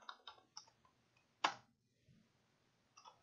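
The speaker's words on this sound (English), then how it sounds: "Start typing in command block." Several light clicks of keys being typed on a computer keyboard while entering a command in Minecraft, quiet and sparse, with one sharper tap standing out over a faint background hiss.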